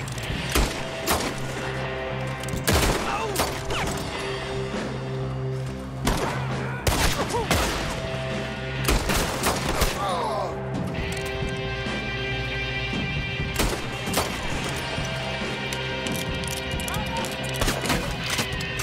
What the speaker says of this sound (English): If it's a little pistol, we might need a few more shots.